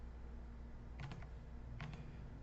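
Someone types on a computer keyboard with two short bursts of a few quiet clicks, faint over steady room hum, with no talking.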